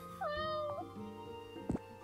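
A cat meows in the video game Stray, one clear rising-and-falling call near the start followed by a shorter mew, with a brief soft thump later and a faint game backdrop.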